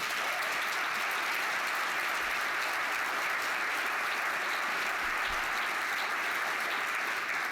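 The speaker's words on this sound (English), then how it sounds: "Can we get a round of applause for this first?" Steady, dense applause from an audience at a leadership and faith panel, loud and sustained clapping throughout with no talking over it.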